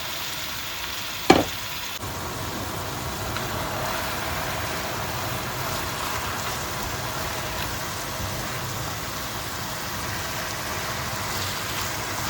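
Lean ground beef fries over onions in a pan with a steady, dense sizzle that stays even throughout, plus one sharp clack of a utensil early on and no talking.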